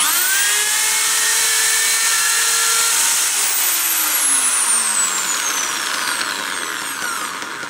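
Carbon fishing bite indicator sanded on a spinning lathe, giving a loud, continuous high whine with sliding pitch sweeps, steady and close throughout.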